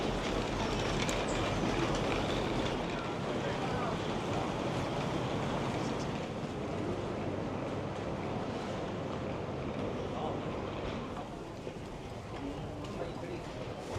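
Steady rumble of a Swedish train rolling along rails, heard from inside, with a continuous broadband roar and faint rhythmic clatter throughout, close and moderately loud.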